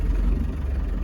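A 1992 Land Rover Defender 90 with the 200tdi diesel engine runs just after starting, a close, steady low rumble with a slight rattling exhaust slap.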